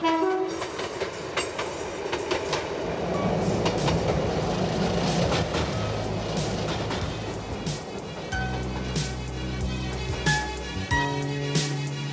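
A British Railways train crosses Oulton Broad near Lowestoft: carriages rumble past with wheel clatter and rail ringing, the horn sounds near the start, and a deep steady engine drone takes over toward the end.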